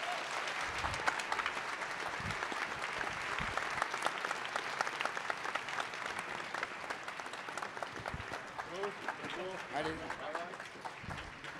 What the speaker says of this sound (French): Je voudrais que vous applaudissiez bien fort mon équipe